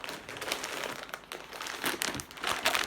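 Plastic shopping bag rustling and crinkling close by, a continuous crackly handling noise with small bursts of louder crinkles.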